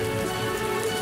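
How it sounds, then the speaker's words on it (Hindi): Heavy rain pours down steadily, a dense, loud, even hiss of drops hitting surfaces with no pauses. "अचानक तेज बारिश शुरू हो गई।"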